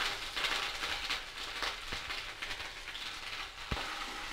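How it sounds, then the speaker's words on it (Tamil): Crushed ginger and garlic sizzle in hot oil in a pan, a continuous hissing crackle with a few sharper pops, fairly quiet and steady. "இப்போ நம்ம வானலியில் எண்ணெய் வச்சு, எண்ணெய் காஞ்சதும் தட்டி வச்சிருந்த இஞ்சி பூண்டு வீடு அதில் போட்டுடலாம்."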